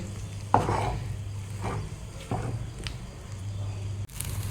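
Spoon working through thick Malkanundi batter in a pan, soft squelching strokes, with a sharper clack at the start and another near the end, close and moderately loud over a low background hum, no voices.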